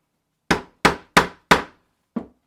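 Rivet on leather struck with a Weaver Heritage hand setter and hammer while making a leather firewood log carrier tote: four sharp, evenly spaced taps close up, then a softer fifth tap after a short pause.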